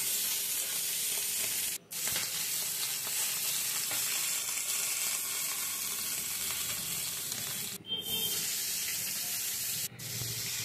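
Fresh Parshe fish frying in oil, a steady, close, continuous sizzle broken by two or three brief dips in the hiss.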